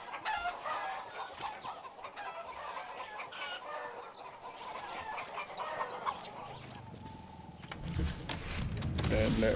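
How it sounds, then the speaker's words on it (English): Chickens cluck and a rooster crows in the video game Far Cry 6, a dense flurry of bird calls under game ambience, with a voice talking over it and a rising rumble near the end. "Oh, the chickens!"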